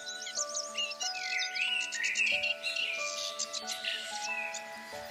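Several birds sing and chirp close by in rapid, overlapping trills and whistles, with steady tonal notes running underneath throughout, no voices present.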